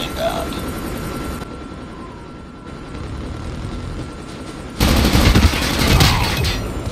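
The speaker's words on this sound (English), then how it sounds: "hostile stealth chopper inbound" A stealth chopper in Call of Duty Mobile drones steadily under dense in-game gunfire and explosions, with a louder burst of shooting near the end.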